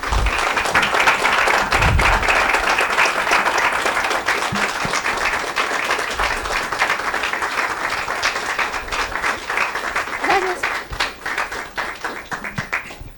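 A lecture audience gives sustained applause at the close of an academic tribute on the history of complex analysis. Dense, steady clapping fills about thirteen seconds and thins slightly toward the end.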